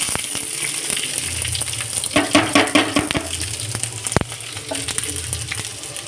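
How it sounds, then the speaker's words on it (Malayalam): Sliced onions and small onions sautéing with fenugreek seeds and curry leaves in a pan, a constant sizzle broken by several sharp clattering stirs and scrapes near the middle. "സവോള ഇട്ട് കൊടുക്കുക."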